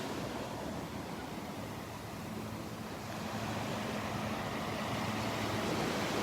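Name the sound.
waves on the Gulf beach at Barefoot Beach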